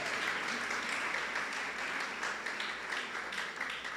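A church congregation at a Sunday celebration service applauds, a steady wash of many hands clapping, fairly distant and soft, continuing evenly across the whole stretch.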